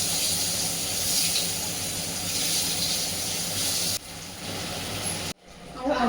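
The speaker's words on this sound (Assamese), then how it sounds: "আলু কেইপিচমান ফ্ৰাই কৰি ল'ম।" Potato pieces frying in hot oil in a pan, a steady, loud sizzle and hiss close by that drops away near the end.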